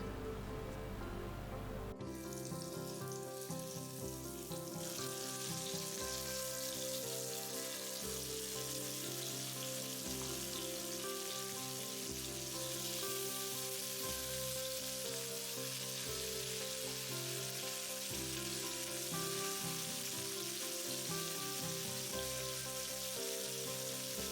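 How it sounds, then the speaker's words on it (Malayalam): Dried fish fries in coconut oil in a pan, giving a continuous close sizzle and crackle that starts suddenly and keeps going evenly for over twenty seconds. "ഒരു പാനിലേക്ക് കുറച്ച് വെളിച്ചെണ്ണ ഒഴിച്ചിട്ട് ഈ മീൻ വറുത്തെടുക്കണം."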